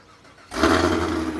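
A sixth-generation Chevrolet Camaro with Borla mufflers and a heads-and-cam build fires up after a short pause, its engine catching at once and holding a loud, close rumble.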